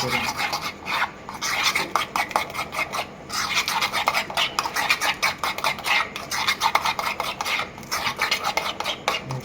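Thick yogurt hair colour paste stirred and scraped in a bowl, giving steady rhythmic scraping and smearing strokes, close and fairly loud, running continuously with brief pauses.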